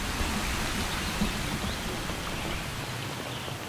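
Steady, dense Amazon rainforest rain hisses continuously at a constant level, a close wash of noise with no voices.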